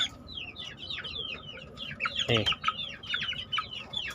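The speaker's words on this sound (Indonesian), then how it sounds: "ayam ini" A young rooster of nearly three months clucks and chirps in quick repeated calls, with a brief louder squawk midway, over a quiet background.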